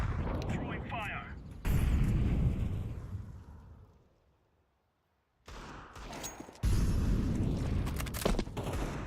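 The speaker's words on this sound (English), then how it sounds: "Grenade out. Throwing fire." A grenade thrown and bursting in a Counter-Strike 2 match, with loud, booming blasts and gunfire-like bursts that fade into near silence before erupting again.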